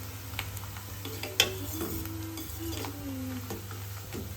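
Tempering for poha sizzles quietly in a pan at home, soft crackling frying with a brief stirring clink, faint and close against a low steady hum.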